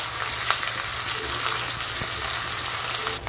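Hilsa fish head crackles in hot oil in a wok with a steady, close, hissing sizzle and a few sharp pops, ending in a brief scrape, with no talking.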